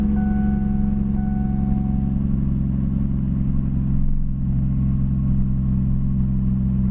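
A car engine idles steadily at an auction, a continuous low hum and throb with a faint rise in revs midway, loud and close, no voices.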